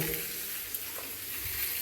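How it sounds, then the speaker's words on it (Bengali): Potatoes frying in a wok with asafoetida, a steady close sizzle with faint crackles, no voices. "আলুটা দিয়ে আলুটা ভালো করে লাল লাল করে ভেজে নেব"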